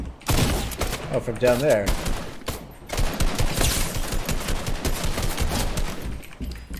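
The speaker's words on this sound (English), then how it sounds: "Who's shooting at me?" Video game gunfire crackles in fast bursts and rattling volleys, close and loud, while a player talks over it.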